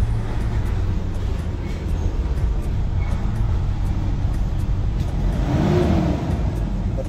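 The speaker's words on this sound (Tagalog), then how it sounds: "Ito talaga andar ng diesel kaysa sa gasolina." A 2007 Toyota Innova's diesel engine runs steadily up close, a loud continuous low rumble and hum that swells slightly near the end.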